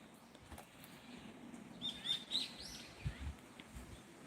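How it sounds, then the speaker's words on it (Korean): Faint bird chirps and short tweets come from a distance outdoors, with soft wind and rustling in the background. "여러분들 새소리 들릴까요?"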